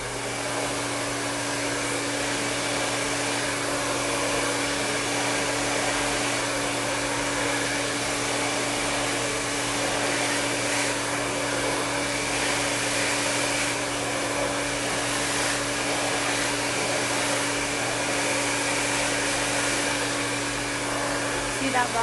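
A hair dryer blows steadily while hair is dried with a round brush in sections, a constant loud whooshing roar with a steady motor hum that runs unbroken throughout.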